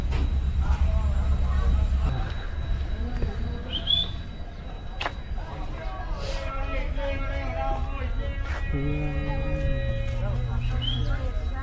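A train pulls out of Londa Junction station with a steady low rumble and rolling rail noise. Voices murmur nearby and faint tones sound over the continuous movement.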